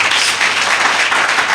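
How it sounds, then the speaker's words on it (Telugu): Audience applause fills a church sermon meeting in Tadepalli, a steady wash of many hands clapping at once that holds its level from start to end without a break. "నమ్మిన వాళ్ళు మాత్రమే చప్పట్లు కొట్టండి"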